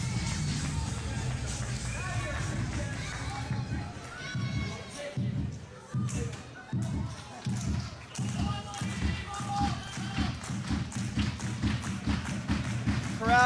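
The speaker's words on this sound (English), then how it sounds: "Crowd giving him a beat." A wrestling crowd at a tag-team match stomps and claps a rhythmic beat, with loud regular thumps and cheering voices mixed in.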